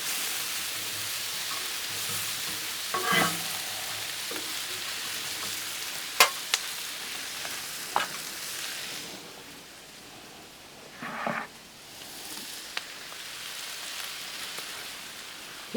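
Brats sizzle on a Blackstone griddle in a steady hiss of frying, with a few brief scrapes and clicks as they are stirred partway through.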